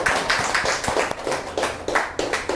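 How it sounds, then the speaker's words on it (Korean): A lecture audience claps during a talk on Zhuangzi at a cultural venue, producing a dense, loud patter of handclaps with a loose, repeating rhythm. "우리 둘의 그 아름다운 인연, 동행에 대해서 박수 한번 주시죠"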